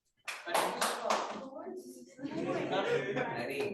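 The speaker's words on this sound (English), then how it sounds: "நீ என்ன clap அடிக்கிற?" A few students clap in a classroom, several sharp claps near the start, then the room fills with overlapping chatter and laughter.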